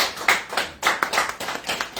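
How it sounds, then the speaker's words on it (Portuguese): A congregation claps together at a Sunday Mass of the fourth Sunday of Lent, a dense burst of hand claps in uneven waves, loud and close, with no talking over it. "uma salva de palmas a todos os pais da humanidade e a quem estão no céu"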